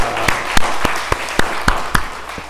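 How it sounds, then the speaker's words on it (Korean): A church congregation claps together in a loud, steady rhythm, sharp individual claps landing about every quarter second over a softer bed of scattered hand clapping nearby. "박수 한번 쳐 올리겠습니다"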